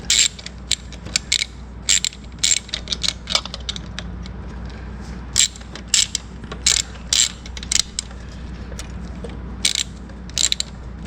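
Ratchet socket wrench clicking in short bursts while tightening an accelerator cable mount on a 1971 Corvette, close and fairly loud against a quiet garage background with no talk.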